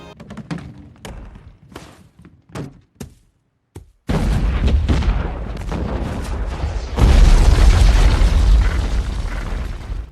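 A series of sharp pops and thuds gives way to a massive, rumbling explosion of a supply pile set off by a mine, roaring on for several seconds, loud and close.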